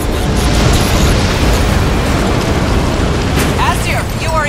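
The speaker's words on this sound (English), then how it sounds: "Target locked. Missile away." A missile launch and explosion in the video game Crysis 3, a loud, sustained roaring blast with heavy low rumble that fills the whole stretch, ending with a few high metallic pings.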